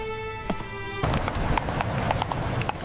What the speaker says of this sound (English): The horses' hooves clattered against the stones as they hurried through the foggy streets of London.